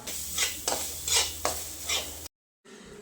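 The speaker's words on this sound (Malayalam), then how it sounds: "എണ്ണ ചൂടായി വന്നിട്ടുണ്ട് തേങ്ങ ഇട്ട് കൊടുക്കാം" Coconut fries in hot coconut oil in a pan. A spoon stirs it in repeated scraping strokes over a soft sizzle, and the sound drops to silence briefly before the sizzle resumes faintly.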